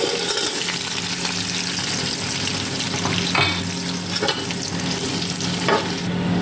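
Onions fry in hot butter and oil in a soup pot, giving a loud, continuous sizzle with stirring scrapes and occasional clinks, close up and with no talking.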